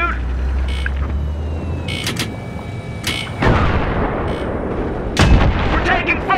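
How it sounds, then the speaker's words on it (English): Gunfire and heavy artillery-like blasts from the Battlefield 3 Thunder Run tank mission, with a low engine rumble underneath and loud bursts of shots, one sharp blast near the midpoint and another near the end. "We're taking fire!"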